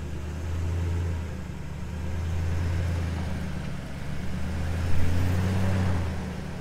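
A tractor engine drones at a low, steady pitch, then swells briefly near the end as it is given a little gas, heard fairly close with no voices.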